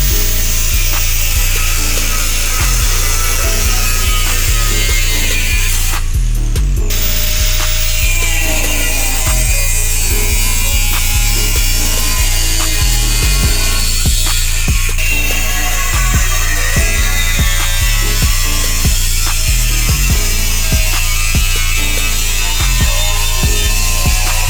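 Engine part for a CB9 Accord wagon swap being cut apart with a power saw, a loud, steady grinding drone with rhythmic ratcheting strokes running throughout and a brief harsh burst partway through.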